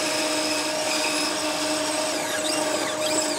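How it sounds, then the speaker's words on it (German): A band saw cuts a rounded curve in wood, giving a steady, loud whining drone that holds even for the whole stretch. "Und das schneiden wir uns jetzt hier an der Bandsäge aus."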